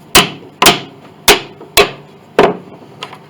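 A hammer strikes wedges during restoration of an 1867 Chickering piano, five sharp loud knocks at uneven intervals followed by a fainter sixth tap.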